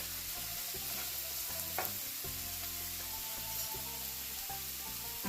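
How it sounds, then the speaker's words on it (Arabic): Duck stuffing seasoned with salt, black pepper, cumin and cinnamon is stirred in a pot, giving soft scraping and gentle sizzling under a quiet, rhythmic backdrop of low sound; no voices. "كده قلبنا كله على بعض اهوت"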